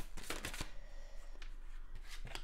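Oracle cards being shuffled by hand, a few quick riffling bursts separated by short pauses, close and fairly quiet with no talking.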